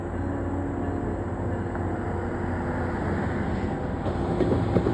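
A locomotive is dragged through the Harlem Line's Southeast rail yard, giving a continuous low rumble and rolling drone that holds steady throughout, with no talking.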